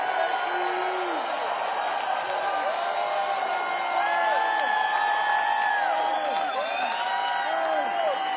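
A large rally crowd in Green Bay cheers and whoops continuously, a dense roar of many voices with scattered shouts rising above it, heard from within the crowd.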